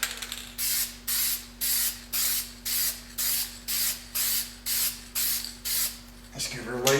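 A spray paint can lays a light coat on a car door in about ten short, evenly spaced hissing bursts with brief pauses between them, close and loud over a low background hum.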